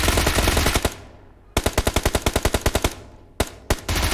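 Automatic gunfire in the mobile battle royale game PUBG Mobile: loud rapid bursts of shots, a long rhythmic string of rounds, then a pause and a few single shots, all close and dominating.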